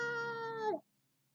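A single cat meow, clear and close, held briefly before cutting off into near silence.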